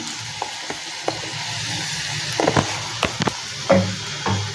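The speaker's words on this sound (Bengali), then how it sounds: "এবার দেখো ওখানে আলুটা ভাজা হচ্ছে" Salted, turmeric-coated potatoes sizzle in a hot pan with a soft steady crackle, punctuated by occasional clinks and stirring scrapes.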